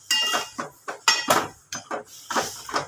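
Mutton being stirred in a cooking pot for a village-style curry, with a series of separate metallic scrapes and clinks of a spoon against the pot, close and fairly loud, roughly a dozen strokes in an uneven rhythm.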